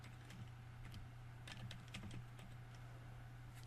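Quiet typing on a computer keyboard at a Windows 8 PC, irregular light key clicks coming in small clusters over a constant low hum.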